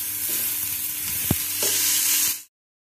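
Finely chopped carrot and cabbage stir-frying with browned onion in a pan, a steady close sizzle with a single utensil knock midway, cutting off abruptly after a couple of seconds.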